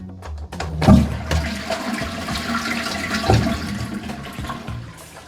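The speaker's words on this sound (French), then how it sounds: "T'as jamais samplé une chasse d'eau?" A toilet flushes nearby, a sudden rush of water followed by swirling and draining, with a second surge partway through.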